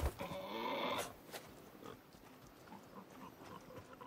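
A pig grunts once in the video game Nightingale, a short rough burst near the start, then faint ambient game noise.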